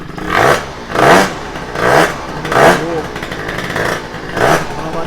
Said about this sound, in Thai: เสียงเพราะดีนะลองเร่งนิดนึงลองเร่ง